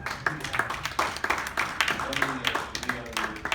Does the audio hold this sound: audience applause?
yes